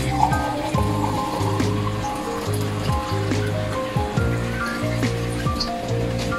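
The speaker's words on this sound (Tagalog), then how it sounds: "Ito guys, magdagdag na ako ng tubig." Water pours into a pot of pinapaitan, the Ilocano stew, as it cooks, giving a steady splashing rush. Tonal background music plays over it throughout.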